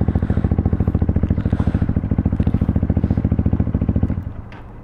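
A Kawasaki Ninja ZX6R motorcycle engine pulses in a fast, even, loud throb close by, then drops off sharply near the end.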